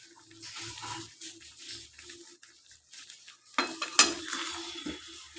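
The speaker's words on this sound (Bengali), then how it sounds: "এটা কষতে শুরু করুক।" Chicken being sautéed and stirred in a pan for Bengali Dak Bungalow chicken, with soft sizzling, scraping and clinking of a spatula against the pot, including a couple of louder metallic knocks near the end.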